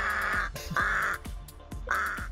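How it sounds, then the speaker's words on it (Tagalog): A pet talking crow from Kabankalan City, Negros Occidental, gives three loud, harsh, close caws in quick succession, with short breaks between calls. "Introducing Uwak, the talking uwak."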